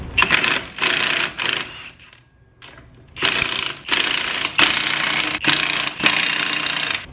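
A cutter slices through the fender of a Nissan D21 truck in loud, harsh grinding bursts of about a second each, broken by short pauses, with one quieter gap midway.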